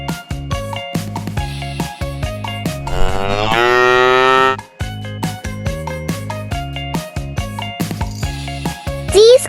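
A cow moos once in a long, loud, drawn-out call, set over a bouncy children's music track with steady repeating notes that continue before and after.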